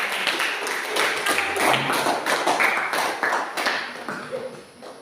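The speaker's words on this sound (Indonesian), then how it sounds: "Oke, tepuk tangan untuk kelompok." Classroom applause for a student group presenting in a lesson, a dense steady patter of many hands clapping for several seconds and tapering off toward the end.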